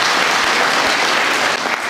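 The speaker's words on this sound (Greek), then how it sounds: "Χειροκροτήστε τους." Audience at an award ceremony honouring Evzones applauding loudly and continuously, a dense close wash of clapping throughout.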